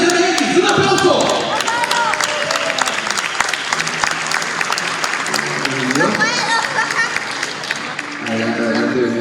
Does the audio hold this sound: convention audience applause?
yes